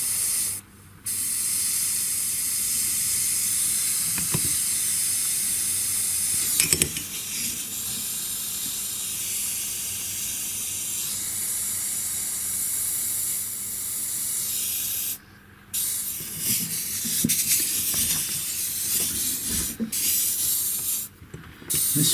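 An Artorch oxy-acetylene torch flame hisses loudly and steadily at close range, with brief cut-offs and slight changes in tone as the hoses are moved.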